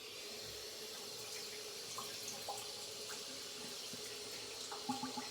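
Tap water runs steadily into a sink while a razor is rinsed, a continuous close hiss and splash with a few small clinks and drips near the end.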